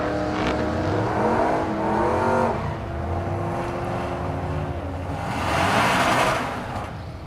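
A fourth-generation Chevrolet Camaro drag races at Thunder Valley in Noble, Oklahoma, its engine revving hard with rising gear pulls, alongside a second car, a loud close roar that fades and swells again as the run goes on.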